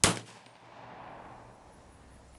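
A single sharp gunshot from a 300 Blackout rifle firing cast bullets outdoors, a loud crack at the start followed by a fading ringing echo.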